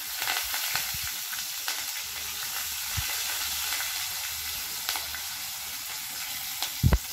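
Dried red chilli and curry leaves sizzle in hot oil in a pan for a rava masala idli dhokla, a dense, steady frying hiss with a few small pops and clinks, close and without speech.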